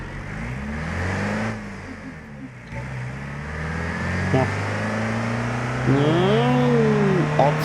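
An old Ford Transit van engine in BeamNG.drive revs up through the gears, its drone rising, dropping and climbing again in pitch, steady and prominent with someone talking over it.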